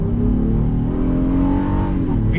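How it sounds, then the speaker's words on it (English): A Honda Passport SUV accelerates from a launch on a test drive, heard from inside the cabin as a loud, steady engine drone whose pitch climbs smoothly and then eases for a couple of seconds. "All right, I'm gonna give you a little acceleration."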